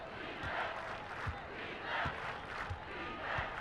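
A basketball arena crowd in NBA 2K17, Pistons against Mavericks, heard as a faint, swelling murmur of cheering with soft rhythmic thumps underneath and no clear speech.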